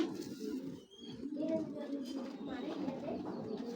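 Pigeons coo in a loft, among them a big female Hammer pigeon, their low soft calls running steadily through the whole stretch with someone speaking over them.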